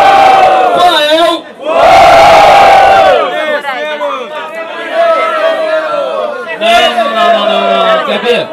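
Crowd at a freestyle rap battle in São Gonçalo cheering and shouting in loud bursts, a big roar, a lull with scattered yelling, then another surge, with a voice on a microphone mixed in.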